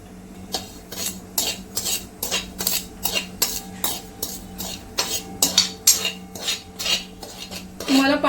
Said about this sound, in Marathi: आपण हे मीठ पण थोडं भाजून घेऊया